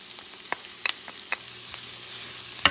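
Garlic sizzles in a pan alongside salmon sausages with crabmeat, a quiet steady hiss broken by scattered sharp pops and crackles, with faint stirring and no talking.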